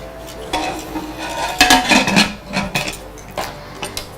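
Metal pressure cooker lid pushed shut and locked over chickpeas for chundal, giving several close, sharp clanks and scrapes in quick succession with no talking.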